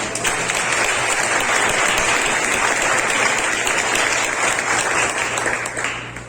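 A church congregation breaks into loud, sustained applause, a steady wash of many hands clapping that fades slightly at the end.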